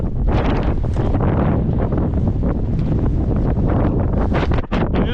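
Strong wind roars continuously into the microphone during a winter ascent of Cherni Vruh, a 2290 m mountain, with loud, steady buffeting and gusts throughout.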